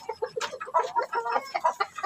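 Brahma and Rhode Island Red chickens clucking on a free-range farm, a close run of quick, choppy clucks and short squawks from several birds, alone without talk.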